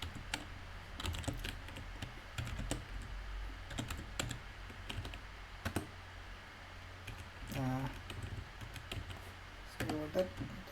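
Soft, irregular clacking of keys on a computer keyboard runs steadily throughout, with a voice briefly heard in the background.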